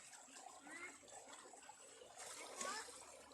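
Outdoors, water pours over slippers to wash them, a soft irregular trickle and dribble, quiet and a little distant, with faint voices in the background.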